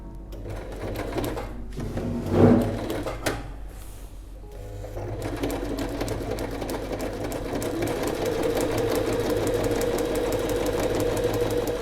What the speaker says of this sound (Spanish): vamos a coser a 1 centímetro de margen de costura por esta parte